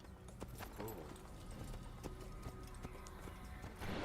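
Horse hooves clip-clopping in the Assassin's Creed video game, a steady rhythmic series of hoofbeats at walking pace under a continuous ambient game background, with no speech.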